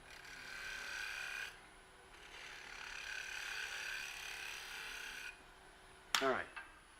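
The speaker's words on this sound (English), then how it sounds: "I'm not going to sand, but I'm going to do some shear scraping." A shear-scraping tool rasps against a turning wooden bowl on a lathe, a steady close scraping hiss in long passes with brief pauses, ending with a sharp squeal and clatter.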